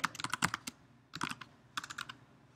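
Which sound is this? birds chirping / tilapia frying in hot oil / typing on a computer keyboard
typing on a computer keyboard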